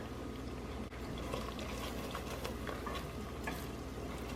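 A spoon stirring onion powder, salt and ground black pepper into a pot of homemade cream of chicken made with bone stock, a soft continuous bubbling simmer with light scraping, fairly quiet and without speech.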